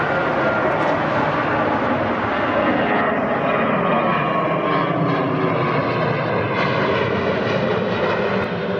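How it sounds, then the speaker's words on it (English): A United Boeing 737-700 airliner at Newark airport roars with steady, loud engine noise that fills the whole clip, with no talk over it. "This is United 2283 to Willemstad with a 737-700."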